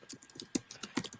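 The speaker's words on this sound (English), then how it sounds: "Someone's typing it." Rapid keystrokes on a computer keyboard, a steady run of light clicks with a couple of sharper, louder key hits, close by and heard alone without talk.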